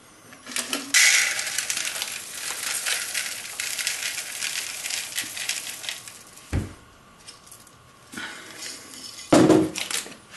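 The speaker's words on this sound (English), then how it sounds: "Then 200 grams of sunflower seeds into each bowl." Sunflower seeds poured into bowls while making muesli: a sustained dry, granular rattling patter of small seeds striking the bowl, steady for several seconds, then a few short clinks and a final louder pour burst near the end.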